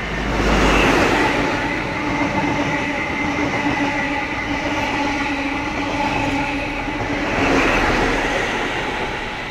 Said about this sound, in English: We have the Sydney XPT returning from Grafton, about to pass platform 1